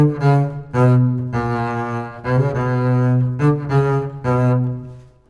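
A bowed double bass plays a short phrase from Bach's Orchestral Suite No. 2 Double, separated, sustained low notes with brief gaps between strokes, rich and resonant, heard up close.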